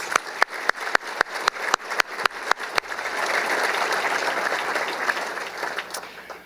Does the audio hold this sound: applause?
yes